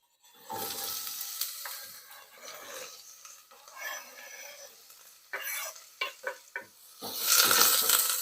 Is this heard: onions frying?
yes